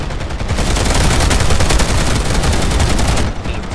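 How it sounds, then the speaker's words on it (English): Dense, continuous automatic gunfire from an online shooter battle, loud and sustained for several seconds with rapid overlapping bursts and no talking, easing off slightly at the very end. "We just shoot because we can."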